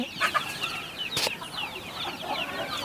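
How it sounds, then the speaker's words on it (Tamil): A native country chicken, a pure Siruvidai breed, clucks in short repeated calls, fairly close and clear over a light farmyard background, with no talking. "இது நல்லா அடக்காக்கும் திறன் கொண்ட ஒரு கோழி இதுதான் பூர்வீகமாக வந்த கோழி"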